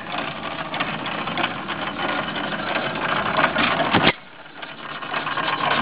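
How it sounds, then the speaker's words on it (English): An antique Paulson gas engine, over a century old, running steadily inside an old machine shop with a fast, even chugging beat, close and loud, then briefly dropping in level before picking back up. "and the engine runs like a clock."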